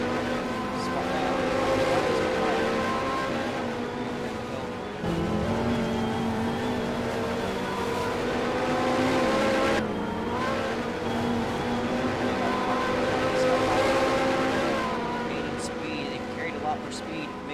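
Dodge Viper and Ferrari GT race cars scream around a racing video game circuit in a Turkish GP event, engines droning loudly and continuously with shifting pitch, under a steady commentator's voice.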